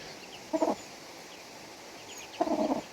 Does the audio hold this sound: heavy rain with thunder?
no